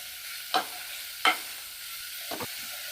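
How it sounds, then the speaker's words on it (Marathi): Mixed vegetables are sautéed in a pan for a veg manchow soup: a soft steady sizzle broken by three sharp spatula scrapes, the last a quick double stroke. "आता आपण लगेच सगळ्या भाज्या घालून घेऊया परतून घेऊया"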